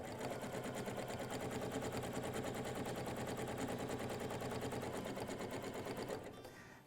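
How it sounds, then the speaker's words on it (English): Domestic sewing machine doing free-motion stitching to couch loose yarn into a letter, running as a steady, fast, loud needle clatter with no pause, then easing off in the final half second. "So now you can just continue stitching back and forth and creating and filling in the letter J."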